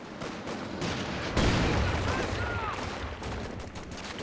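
A grenade blast and scattered small-arms fire sound from a Company of Heroes 2 battle, a dense, noisy rumble that swells sharply partway through and keeps crackling under occasional voices.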